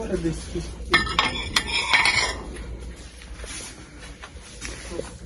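Ceramic plates clink and rattle as they are handled and stacked in a shop, a burst of sharp close knocks early on, then quieter scattered clatter over faint background noise.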